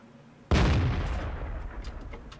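A single tank gun fires in the World of Tanks video game, one sharp, loud blast with a heavy boom that rolls away into a fading rumble.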